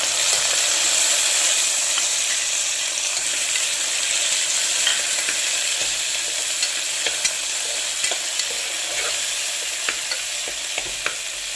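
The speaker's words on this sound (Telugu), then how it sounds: "టమాటా ముక్క కట్ చేసి పెట్టుకున్నాను అది వేసుకున్నాను ఇది కొంచెం ఫ్రై అవ్వాలి" Chopped tomatoes fry in a pressure cooker for tomato rice, a loud continuous crackling sizzle heard up close, with light scraping and clicking from stirring scattered through the second half.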